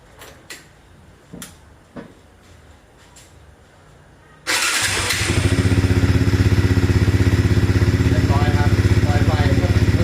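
A motorcycle engine fitted with a new WR racing ignition coil fires up abruptly after a few soft clicks, then settles into a loud, steady, close-up running rumble.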